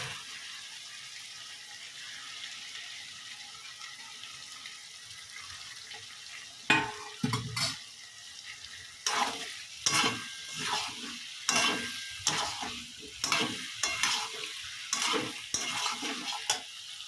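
Young jackfruit is tipped into hot oil in a pan, then fried with a rhythmic series of scraping stirs over a soft sizzle, quiet at first and then busier with repeated spatula strokes.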